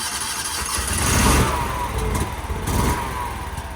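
Engine of a vehicle abandoned for over two years cranking and catching, then running rough and revving in uneven surges, loud and close.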